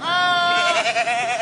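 Goats bleat loudly in a long, strained, human-like yell, one sustained wavering cry filling the whole moment up close.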